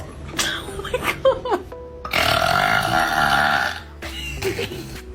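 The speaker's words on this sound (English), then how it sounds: "Can you give me a burp?" A dog lets out a drawn-out, throaty burp lasting nearly two seconds, loud and close, framed by a voice talking before and after.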